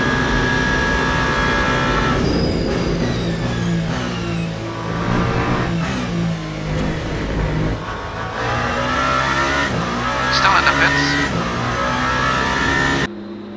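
A race car pulling out of the pits in the Le Mans Ultimate game at the 24 Hours of Le Mans, its engine revving loudly and climbing through gears, with pitch sweeps and a sudden cut at the end.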